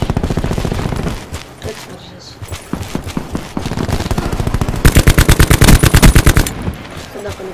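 Rapid automatic gunfire in Call of Duty Black Ops 4, loud and close, with short bursts early on and a long rattling stream of shots near the end while a player talks over the action.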